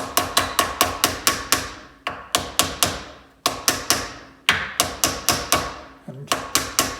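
A hammer strikes metal in quick bursts of sharp, ringing taps, tapping a rear suspension part into place, several blows per group with short pauses between, close and loud.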